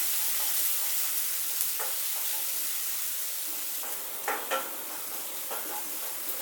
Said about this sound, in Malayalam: ഒരു ടീസ്പൂൺ വെളുത്തുള്ളി ചതച്ചത് രണ്ട് പച്ചമുളക് ഇതുപോലെ കീറിയിടാം അതിനുശേഷം മൂന്ന് മിനിറ്റ് നല്ലപോലെ വഴറ്റിയെടുക്കണം